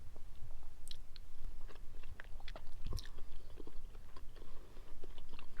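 Close, crisp bites and steady chewing of crunchy takeaway pizza crust, with sharp crunch transients scattered over several seconds and no talk.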